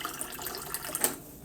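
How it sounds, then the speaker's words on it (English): Cold water trickles and splashes as it is poured into a cup at home, a soft, close, continuous stream lasting just over a second with faint droplet ticks as it ends. "we're going to add a little bit more water"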